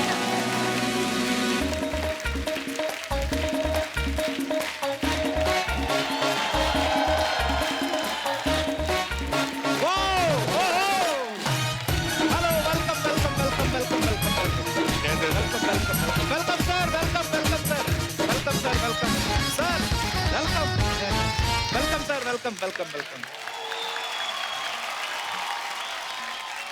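A studio audience on a comedy talk show applauds loudly beneath blaring upbeat music, the clapping and music running together for most of the stretch before fading, with a brief spoken word.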